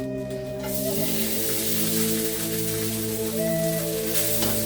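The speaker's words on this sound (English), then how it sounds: "Get that nice sizzle there." Rice hitting a hot pan while cooking Mexican-style rice for ground beef tostadas, giving a steady, fairly loud broadband sizzle that holds throughout, with a faint kitchen hum underneath and no talking.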